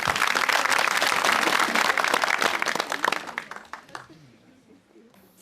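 Studio audience at an Azerbaijani comedy show applauding, a dense loud wave of many hands clapping that fades out over the last second or two, with a voice speaking over it.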